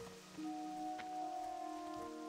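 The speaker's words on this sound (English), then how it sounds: "I wish it wasn't raining because it is a really cool place here." Steady rain patters down in a World of Warcraft TBC Classic zone, a soft wash of falling drops beneath sustained musical tones, with no voices over it.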